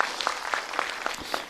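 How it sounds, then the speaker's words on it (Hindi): A live audience at a Bageshwar Dham Sarkar question-and-answer gathering breaks into applause, a dense, steady patter of many hands clapping together for about a second and a half, with sharp peaks spread throughout. "एक बार ताली बजाओ"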